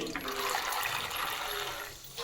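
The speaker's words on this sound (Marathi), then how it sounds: "आणि शेंगदाणे छान तळून घेते" Peanuts fry in hot oil for a Diwali chivda, a loud, continuous sizzling hiss close to the pan that eases slightly near the end of the short stretch.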